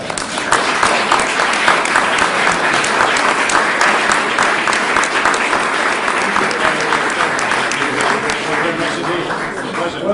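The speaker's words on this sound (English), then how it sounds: "Just all join together and applaud each other." Dense, steady applause from an event audience fills the whole stretch, loud and close, with many hands clapping at once and faint voices underneath.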